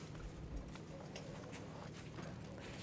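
Horses' hooves clip-clop faintly and irregularly as the animals are harnessed to a wagon behind the scenes at an outdoor pirate festival stage show, distant and soft over steady background noise.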